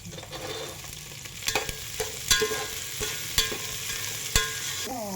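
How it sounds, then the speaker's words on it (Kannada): Onions frying in hot oil for a broad bean pulao, a continuous close sizzle broken by several sharp stirring knocks and scrapes of the spoon against the pan. "ಇದು ಎಣ್ಣೆ ಕಾದೈತಿ, ಈರುಳ್ಳಿ ಹಾಕ್ತಾಯಿದ್ದೀನಿ"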